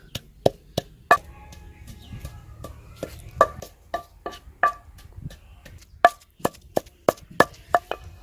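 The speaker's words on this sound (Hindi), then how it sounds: "इसके अंदर हम शामिल करेंगे प्याज और इसको भी जो है ना हम अच्छे से कूट लेंगे" Onions pounded for a spicy fried fish recipe, a series of sharp, close knocks at an uneven rhythm, some strikes louder than others, with quiet gaps between.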